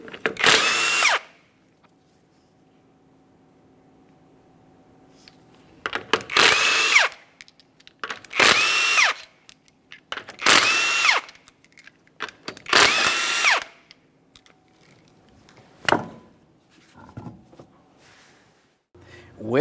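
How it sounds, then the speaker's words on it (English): Impact wrench zipping off 21mm lug nuts from a 2010-2013 Kia Forte Koup wheel, five loud separate bursts of a second or so each, evenly spaced with quiet pauses, followed by fainter clicks and handling noises. "we're going to remove all 5 of our 21mm lug nuts"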